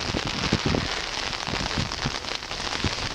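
Heavy rain pours and wind gusts around someone walking outdoors under a large umbrella, a dense continuous hiss with scattered drops drumming close on the canopy.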